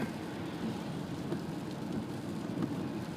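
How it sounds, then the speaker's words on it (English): Heavy rain drums steadily on a car from inside while driving, a dense constant hiss with a few faint dull knocks. "There's so much rain here."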